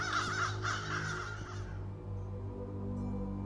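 A flock of crows in the video game The Beast Inside caws harshly and densely, then fades away, leaving a low ambient hum.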